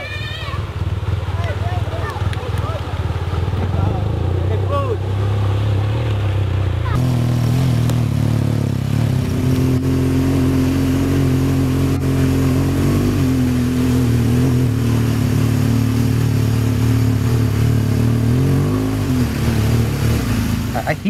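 A motorcycle engine rides along a road in Laos, a loud steady drone that deepens and settles into a sustained hum partway through, with voices mixing in at times.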